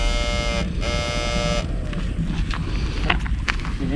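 A small boat motor runs steadily on a river canal, a close, droning buzz with strong harmonics that cuts out briefly and then gives way to rougher wind and water noise.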